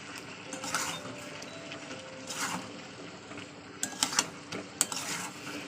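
Chicken with turmeric and salt is stirred in hot oil, soft scrapes and faint clinks of a spoon against the pot, with a cluster of sharper metallic taps near the end, quiet and close.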